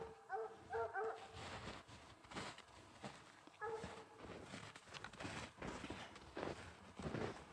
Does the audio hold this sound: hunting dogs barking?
yes